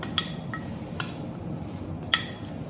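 Spoon clinks against a bowl while red chilli powder, grated ginger and salt are stirred into curd, three sharp metallic taps spaced about a second apart over a soft steady background.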